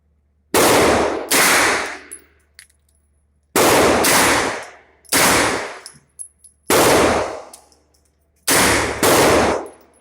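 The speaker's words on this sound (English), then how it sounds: "9mm, 16-inch carbine, and which targets? Shoot the center. We're trying to sight it in right now." A 9mm 16-inch AR carbine is fired while being sighted in, giving loud close gunshots in quick pairs, about eight shots, with sharp metallic ringing between bursts.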